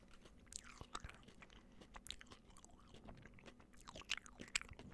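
Close-up chewing of crunchy, marshmallowy CF sweets that taste of banana, with irregular crisp bites and crunches over a quiet background and no talking.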